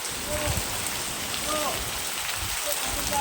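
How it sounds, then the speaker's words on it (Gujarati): Heavy rain pours down steadily in a village in Gujarat, an even hiss of drops on surfaces, with faint voices in the background. "હજરા ગામમાં ખુલ્લે ફૂલ વરસાદ પડે છે"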